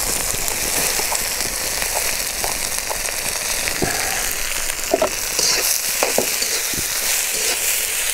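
Carrots and onion frying over an outdoor charcoal grill, a steady close sizzle and crackle with scattered sharp pops and stirring clicks, no talk.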